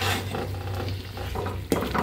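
Bitter gourd and potato curry is stir-fried in a pan, with a continuous sizzle and soft scraping strokes. A sharp clank of utensil on pan rings out near the end.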